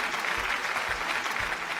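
A television game-show crowd in Kerala claps for Mammootty fans, a brief, steady patter of many hands, close and even, with no voices over it.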